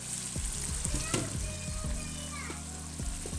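Minced meat frying with onion, tomato and spices for aloo keema, a steady close sizzle with repeated spoon scrapes and clatter against the pot, faint voices in the background.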